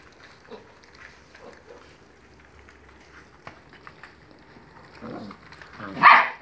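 A few short dog barks and yips, moderately close, with a louder burst near the end amid quiet background movement.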